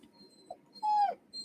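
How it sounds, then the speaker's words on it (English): A dog whimpers nearby in a quiet room: a brief soft whine, then a louder, longer high-pitched whine, and a final short whimper trailing off. "Excuse the dog. He is vocal."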